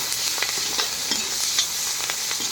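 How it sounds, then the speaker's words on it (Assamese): A steady, hissing sizzle of onions frying in hot oil, with occasional soft stirring scrapes, close up and without voices. "এই পিঁয়াজটো ভাজি আছোঁ মই।"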